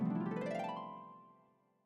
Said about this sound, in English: A harp sounds like this.